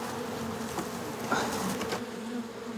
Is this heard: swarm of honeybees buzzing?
yes